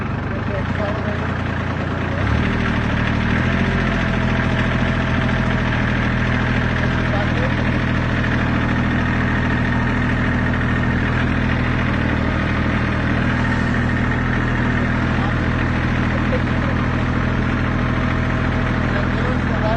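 A tractor engine idles steadily and close by, a continuous low rumble that holds unchanged throughout, with a person talking over it.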